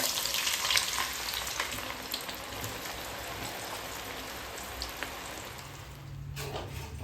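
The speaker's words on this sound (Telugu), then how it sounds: "ఇప్పుడు మీకు దీంట్లో ఆనియన్స్ వేసి ఒకసారి చూపిస్తాను" Onions deep frying in hot oil, a dense continuous crackling sizzle with occasional sharper pops, steady and close, briefly dipping near the end before resuming.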